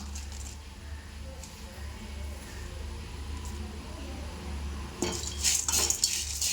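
Dal and curry leaves stirred while dry-roasting in a pan, a steady low hum under faint scraping that turns into louder, rapid metallic clinks and scrapes near the end.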